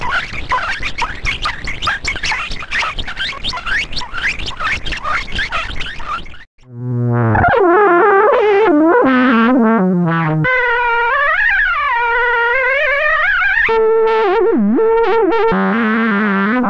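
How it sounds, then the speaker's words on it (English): Dynamic stochastic synthesis from the Gendyn and Blowfly programs: a dense, gritty buzz of jittering noise for about six seconds, then loud, steady tones that glide and warble up and down in pitch with abrupt switches between them. "Here now is a head-to-head of sounds generated by Gendon and those produced by Blowfly."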